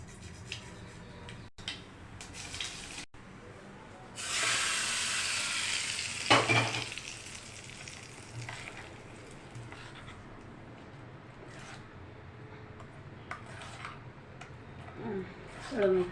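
Oil sizzling in a pan for pea butter chutney, a steady hiss that swells then settles into quieter frying with a few clinks.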